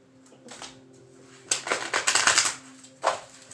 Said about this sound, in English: I'll be shuffling them right here on the chair.